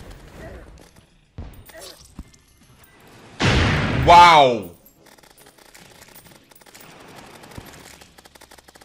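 A cannon fires in the video game Terraria, a short booming burst amid quiet game sounds. A voice reacts right after it, with sparse speech elsewhere.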